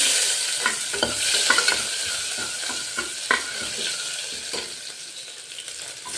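Ginger frying in ghee and oil in a pan produces a bright, continuous close sizzle, broken by repeated soft scrapes and stirring clicks.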